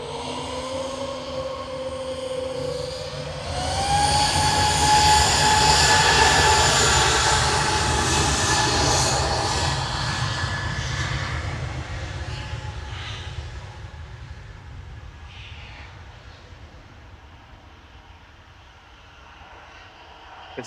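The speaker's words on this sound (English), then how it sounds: "Yeah, just on short final, the A380. Coming in from Dubai." An Emirates Airbus A380, a ten-year-old airliner inbound from Dubai, on short final into Manchester Airport: a loud, broad jet roar swells as it passes close overhead, with a rising engine whine, then slowly fades into distant rumble.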